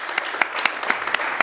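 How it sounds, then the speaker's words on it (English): Brief audience applause greets a rapper at a live conversation event, a short run of crisp, fairly close claps from a small crowd. "Round of applause, please, in the back if you're here."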